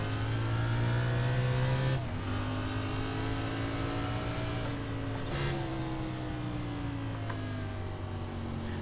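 A stock car engine in a racing video game, taking a slow lap around Monza: a steady, loud engine drone that holds its pitch, with a few gear changes and slight rises and falls in revs, alone with no talking.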